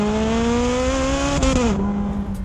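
A Ferrari 430 Scuderia's high-revving engine screams loudly and steadily, then drops sharply during a flat shift with a crackling burst before settling back at lower pitch, heard close up with no talk.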